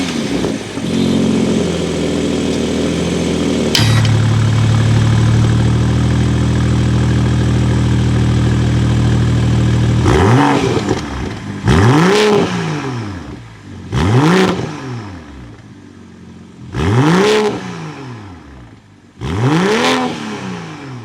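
A 2021 BMW M340i's 3.0-liter inline turbocharged engine idles steadily, then revs sharply five times in quick bursts, each rise and fall clearly heard up close.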